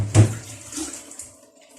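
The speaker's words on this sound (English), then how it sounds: "Then I put in a little water." A little water is poured into okra for blending, a brief splashing pour at the start that quickly trails off into a faint trickle and quiet.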